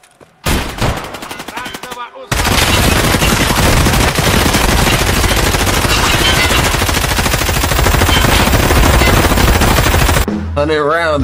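Sustained heavy automatic gunfire from a big gun in Escape From Tarkov Arena, a loud continuous close-range stream of rapid shots lasting several seconds after a brief opening burst, with a voice briefly over it.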